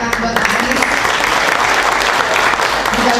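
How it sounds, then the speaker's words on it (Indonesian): An audience at an Indonesian presidential candidate forum claps steadily for a few seconds, a dense, even wash of applause filling the room from start to finish. "Oke, kita berikan tepuk buat Anies."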